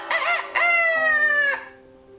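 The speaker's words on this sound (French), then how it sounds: "que le coq eut chanté" A rooster crows nearby, a loud two-part cock-a-doodle-doo that rises and holds before trailing off, heard alone.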